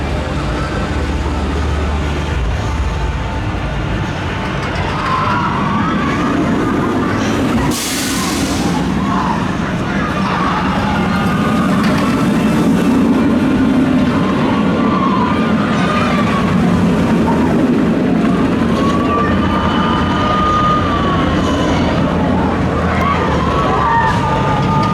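Back-row ride on the Swarm roller coaster at Thorpe Park: a steady roar of wind and rumbling track throughout, with squealing wheel noises and distant screams rising and falling over the constant rush.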